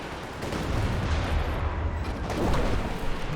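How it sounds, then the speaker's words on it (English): A Katyusha long-range rocket barrage in a strategy game rumbles as a dense, loud roll of overlapping blasts and launches, rising and falling over a few seconds with no voices. "Katyusha long range barrage"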